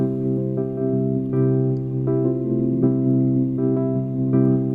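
A GarageBand easy-keys MIDI piano backing track in a straight 4/4 pop rock style, variation 4, plays steady sustained chords with rhythmic re-strikes, clear and alone.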